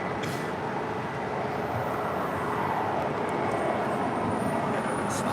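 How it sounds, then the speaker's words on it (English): Asiana Airlines flight 202 airliner arriving at LAX from Seoul, a steady broadband jet roar that holds at an even, moderately loud level throughout, heard from a distance at the airport. "That was Asiana Airlines with 202 coming in from Seoul"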